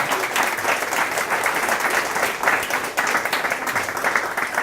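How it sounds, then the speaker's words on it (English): Sustained audience applause at a coding bootcamp demo day, a dense, steady roar of many hands clapping together for several seconds with no talk over it. "let's give a round of applause for the entrepreneurs here."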